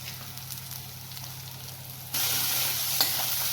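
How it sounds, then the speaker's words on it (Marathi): A spiced ground masala paste sautéing with salt in a pan for a matar gobi (peas and cauliflower) dish, a steady sizzle that jumps louder partway through, with no talk. "वाटण छान परतवून घेऊ सर्व प्रथम त्यात चवीनुसार मीठ टाकून घेऊ"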